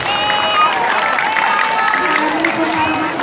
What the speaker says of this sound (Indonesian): Tolong berikan tepuk tangan terlebih dahulu.